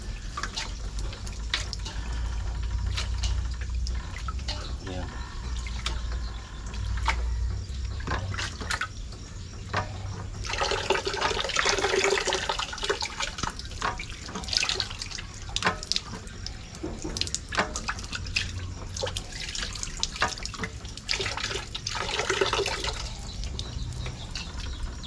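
Water pumped by hand and running steadily into a basin while market-bought ingredients for dinuguan are washed, in Magalang, Pampanga; a continuous splashing stream with fluctuating gushes, heard alone and fairly close.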